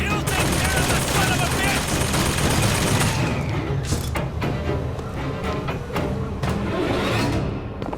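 An automated turret in Bioshock Infinite fires at the player in dense, loud bursts that trail into scattered shots and echoing impacts, with someone talking over it.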